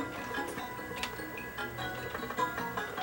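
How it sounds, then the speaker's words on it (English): A trembling detection switch inside a Sony EVS7000 Hi8 home deck ticks in a quick, faint, irregular patter against steady mechanical hum, heard close with no talking. "one of the switches is not detecting it's out all the way and it's trembling"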